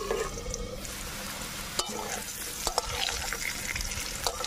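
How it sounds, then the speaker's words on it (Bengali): Potatoes frying in oil in a pan for a village-style katla fish kalia, a close, constant sizzle broken by a few sharp spatula knocks and scrapes, no talking. "এই যে এবারে আলুটা ভালো করে ভেজে নেবো, একটু ঢাকা দিয়ে দেবো।"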